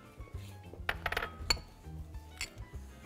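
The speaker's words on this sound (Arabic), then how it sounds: "هاي 50 جرام من الزبدة بنحط عليهم كوب من السكر البني وبنحركهم شوي مع بعض" Butter and brown sugar being stirred together in a bowl for toffee cheesecake cups, with a cluster of light metallic clinks and scrapes, close and fairly faint amid soft room noise.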